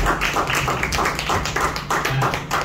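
Congregation applauding in a church during a Sunday service, rhythmic hand clapping from a group, fairly loud and steady for the whole stretch.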